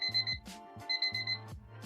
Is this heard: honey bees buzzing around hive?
no